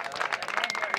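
Dense clapping from a crowd at a greyhound race in Villacañas, Spain, steady and fairly close, with a voice faintly mixed in.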